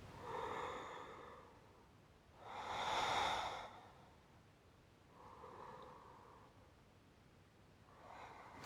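Slow, deep breaths during a hatha yoga pose, close and soft: long airy inhales and exhales rise and fall in a steady rhythm, with three or four breath cycles heard alone.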